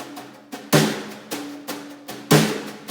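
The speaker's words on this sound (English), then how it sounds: "translating it onto a snare setting and adding those 16th notes as fillers" A snare drum plays a slow groove, accented hits spaced evenly with softer sixteenth-note fills between them, close and crisp, no voices.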